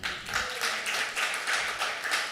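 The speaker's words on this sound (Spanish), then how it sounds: "Denle un aplauso a Jesucristo." A church congregation clapping together for Jesus Christ, steady rhythmic handclaps in even pulses, moderately loud and sustained, with no voices on top.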